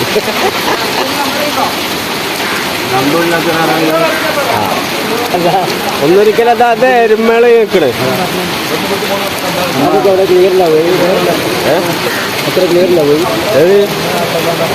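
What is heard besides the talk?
heavy rain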